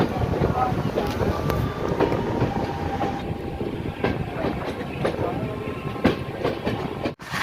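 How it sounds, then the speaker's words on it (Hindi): Kota Patna Express rolling into Patna Junction, with a steady loud rumble of rail wagons and intermittent clicks of wheels over joints throughout, plus a brief dropout near the end. "अपनी ट्रेन अब पटना जंक्शन में इंटर कर चुकी है"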